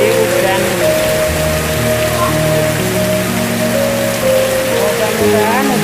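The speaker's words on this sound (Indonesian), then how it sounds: "suasananya lagi hujan." Heavy rain with strong wind in Sukorame, Lamongan, pours steadily and loudly throughout, a dense close patter on surfaces with no pause.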